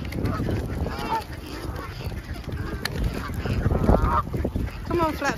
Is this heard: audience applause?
no